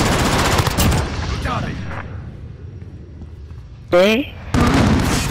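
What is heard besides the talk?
gunfire in Call of Duty: Modern Warfare video game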